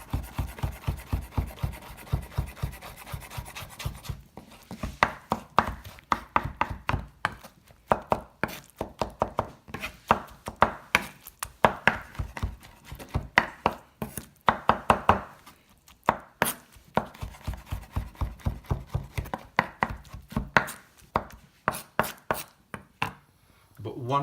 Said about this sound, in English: So I'm going to go ahead and mash this just with a knife like so.